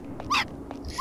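A dog in Hitman: Blood Money gives a few quick, sharp yelps and whimpers in short bursts, fairly close and alone with no voices.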